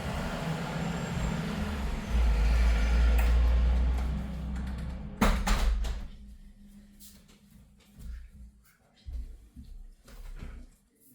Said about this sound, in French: je vais aller fermer la fenêtre parce que là, les bruits des camions, c'est infernal.